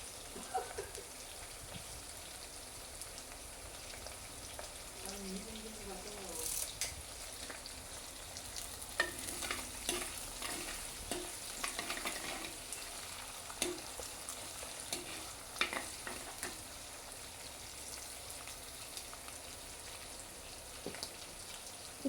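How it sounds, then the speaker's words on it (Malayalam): Small red shallots and homegrown curry leaves sauté in a pan for a fish curry, giving a quiet, steady sizzle and crackle broken by soft stirring clicks. "ചെറിയ ഉള്ളി, ചുവന്നുള്ളി നമ്മളിട്ട് അത് നല്ലപോലെ പച്ചമണം മാറി വാടി വരണം."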